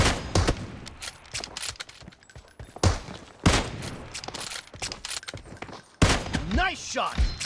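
Rapid gunfire rattles through a PUBG Mobile match in dense bursts of sharp shots, loud and close, with a brief voice near the end.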